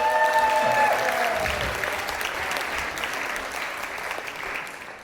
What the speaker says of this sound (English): one round of applause for our next speaker, Dr. Dan!